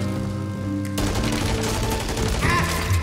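Gunfire from an online Warzone battle royale match, a burst of rapid shots landing a headshot on an enemy atop a building, loud and dense, rattling over continuous game ambience with no talk.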